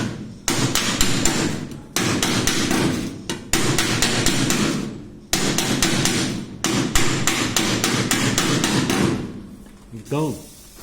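Rapid bursts of hammer blows beating a dent out of a 1968 VW Beetle steel body panel, loud metallic knocks in repeated runs separated by short pauses.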